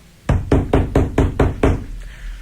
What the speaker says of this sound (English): knock on the back door.